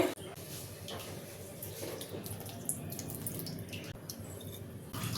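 Tamarind juice is poured into a pot of brinjal curry, a faint continuous trickling and splashing of liquid lasting several seconds at close range.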